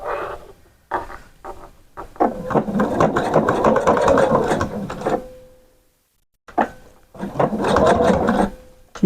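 A sewing machine stitching a skirt with elastic runs in loud, close bursts of rapid whirring, stopping and starting several times with short pauses and a longer silence before the final run.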